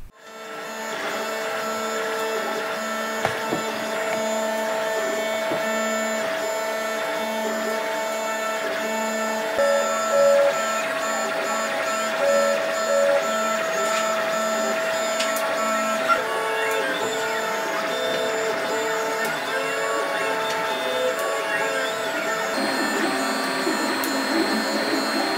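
A 3D printer printing Hulkbuster cosplay arm parts hums and whines steadily throughout, with shifting stepper-motor tones as the head moves, loud and close.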